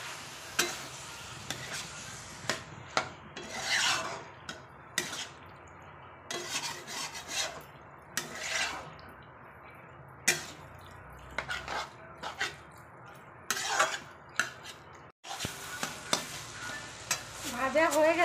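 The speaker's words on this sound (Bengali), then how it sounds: "এবার ওই সিদ্ধ করা কচুটা দিয়ে দিলাম। এবার এটা দিয়ে ভাজবো।" Boiled taro pieces fry in a spice masala in a pan, a soft continuous sizzle broken by repeated scraping and stirring strokes of a spatula, close and fairly quiet throughout.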